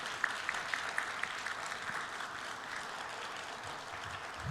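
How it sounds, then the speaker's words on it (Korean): A congregation at a New Year's Eve church service claps in blessing, a sustained, even roar of hands from a large room, with a few sharper claps standing out near the start. "10초 동안 크게 박수로 축복해요."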